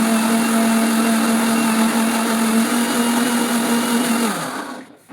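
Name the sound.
electric mixer grinder grinding chutney paste with chili powder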